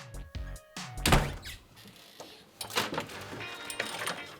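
A wardrobe door is shut and then opened, giving a couple of close, dull thunks with light rattling and clatter in between, all without speech.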